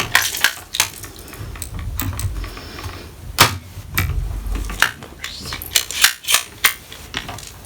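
A worn staple gun firing staples into stretched canvas, a series of sharp metallic snaps and clacks at irregular intervals, some in quick pairs, with faint handling noise between shots.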